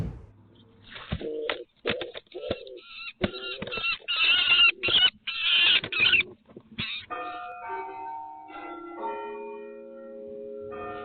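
A rooster gives a run of sharp, close clucks and squawks in a tense animal standoff, then follows with a few longer, drawn-out crowing calls, loud and clear with no talking.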